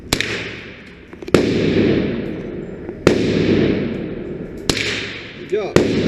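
Gunshots at an outdoor shooting range, single loud cracks spaced about a second or two apart, each followed by a long echoing decay, with people talking between shots.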